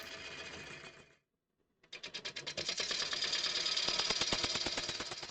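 A wood lathe spins a bowl blank at around 500 RPM, a close mechanical whir that stops for a moment, then restarts with rapid rhythmic ticking and a rising buzz as it comes up to speed.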